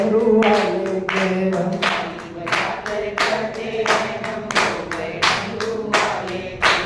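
Devotees at a Shiv Mahapuran katha clapping their hands in unison during a bhajan, loud rhythmic claps in a steady beat throughout.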